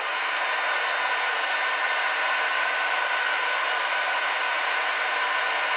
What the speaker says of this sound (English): On with the fan.